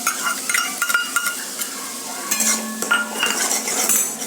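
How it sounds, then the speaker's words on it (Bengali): A paste of mustard, poppy seed and green chilli is stirred in a hot pan: repeated metal spoon scrapes and clinks over a light sizzle. "ভালোভাবে নেড়ে চেড়ে নিচ্ছি"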